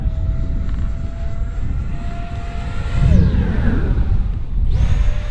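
A Marlin 64mm 4S sport RC jet with an electric ducted fan flies aerobatics, its loud whine sweeping up and down in pitch as it passes close, with no talk.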